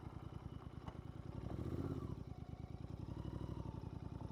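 A Royal Enfield motorcycle labouring uphill in low gear, its engine a steady close thumping drone that swells briefly and keeps chugging evenly under strain.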